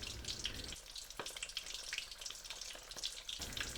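Sesame prawn toast frying in oil in a pan, a quiet continuous sizzle and bubbling with small pops and crackles scattered throughout.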